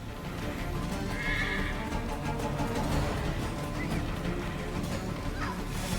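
Horse in the video game Assassin's Creed III lets out a clear whinny over a busy bed of ambient noise, with hoof clip-clops and faint background activity.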